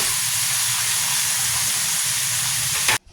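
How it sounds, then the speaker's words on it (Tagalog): Tomatoes sauté in a hot pan for kinamatisang tilapia, giving a steady, loud, close sizzling hiss that holds evenly and then cuts off abruptly near the end. "Pakagisa lang natin to, maganda kasi dito yung lutong-luto yung kamatis."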